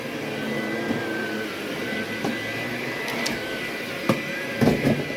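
A Vax Blade 24v cordless vacuum cleaner runs at normal power without turbo, a steady, fairly quiet motor whine with a few sharp clicks and rattles of debris being picked up near the end.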